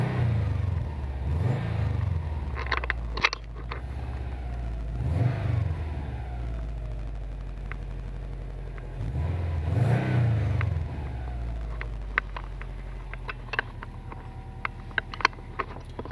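Subaru Forester XT engine revs in three or four rising and falling swells over a steady idle, heard from the rear of the car, with small clicks and rattles in between.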